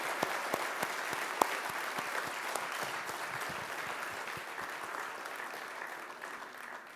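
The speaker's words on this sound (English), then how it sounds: "With a great round of collective applause." Steady applause from an awards ceremony audience, a dense wash of many hands clapping at even loudness throughout, with no voices over it.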